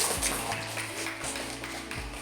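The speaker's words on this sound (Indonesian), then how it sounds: "kita beri tepuk tangan untuk kelompok 1" Children in a second-grade elementary classroom applaud group 1, a brief dense round of clapping with low rhythmic thumps underneath.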